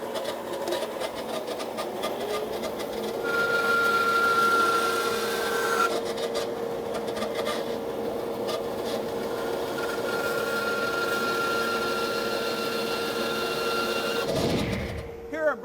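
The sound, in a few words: bandsaw resawing wood for outdoor chair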